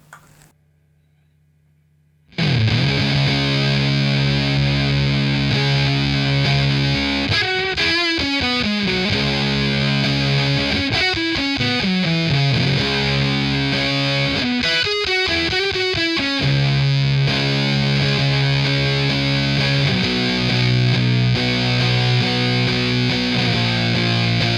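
Electric guitar played live through a Big Muff fuzz patch on a live rig, after a brief near-silent start, then a thick, sustained distorted tone with shifting chords and bends running continuously, loud and alone with no talking.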